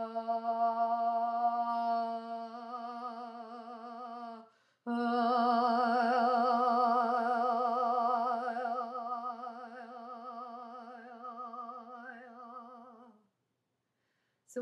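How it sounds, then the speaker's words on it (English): A single human voice doing vocal toning, holding long, steady sung tones that waver slightly. It moves from a body tone to an emotional tone to a healing tone across two sustained phrases split by a brief breath, then falls silent. "I'm going to go from body to emotion to a more healing sound"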